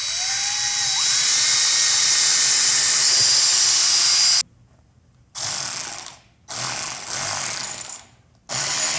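A power drill bores a hole into a ceiling while a ceiling hoist is being installed. The high whine runs steadily for several seconds, then stops and restarts in short bursts, loud and close, and no one speaks.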